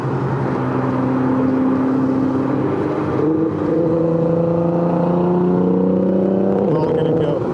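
A Nissan GT-R running on E85 accelerates hard nearby, its engine note climbing steadily in pitch over several seconds beneath a constant roar of wind and road noise.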